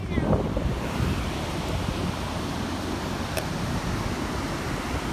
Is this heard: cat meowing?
no